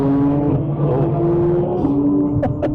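Inside a Ford Mustang GT lapping the Nürburgring Nordschleife, a loud, close steady engine drone holds while a Porsche ring taxi draws alongside to pass, with brief rising engine surges near the end.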